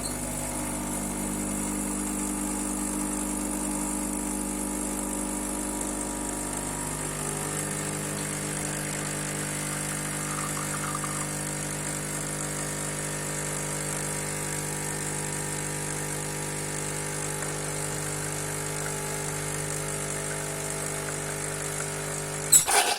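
ECM Puristika lever espresso machine pulling a shot, a steady mechanical drone with a low pump-like hum running unbroken for over twenty seconds, close and even, ending with a brief clatter.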